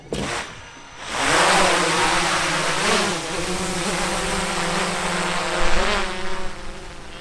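A buzzing motor whine spins up and rises to a steady, loud drone as an EVO II drone lifts off from a boat close by, with slight pitch wobbles.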